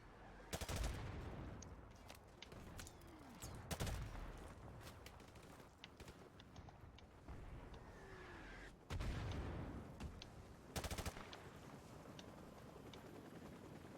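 Gunfire in the Call of Duty Modern Warfare Remastered campaign: scattered loud shots and short bursts crack out over a windy, rumbling battlefield backdrop, with sharp clusters near the start, around four seconds and again near nine and eleven seconds.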